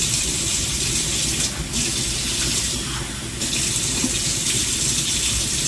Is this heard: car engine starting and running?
no